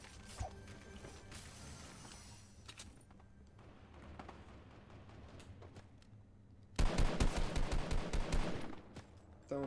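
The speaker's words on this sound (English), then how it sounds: "So sure I heard gunshots" Rapid burst of gunfire in the Fortnite battle royale game, Fortnitemares Halloween update of 2020, a loud cluster of sharp repeated shots late on after quieter mechanical clicks and game noise.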